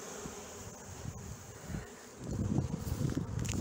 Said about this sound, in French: elles sont sur moi les abeilles en fait